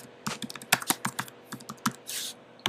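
Rapid typing on a computer keyboard while setting up an email autoresponder, a close series of quick, uneven key clicks with a brief hiss near the end, no voices.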